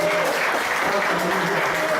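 Worship congregation clapping, a steady wash of many hands at a fairly loud level mixed with sung or spoken voices underneath throughout.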